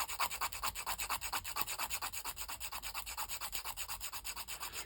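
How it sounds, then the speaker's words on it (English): A coarse nail file rasps back and forth over resin charm beads in quick, even strokes, close and alone with no talk. "what I'm going to do is attack them with quite a coarse nail file, just to get the worst of it off"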